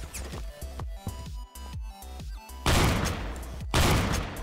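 Slug sniper gunfire in the Roblox game Phantom Forces: a string of sharp, close shots at an uneven pace over game sounds, ending in two louder, broader blasts.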